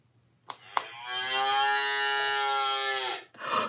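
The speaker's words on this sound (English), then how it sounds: "Can you moo like that cow?" A cow gives one long, loud, drawn-out moo lasting about two seconds, close by, after a couple of short knocks, with no talking over it.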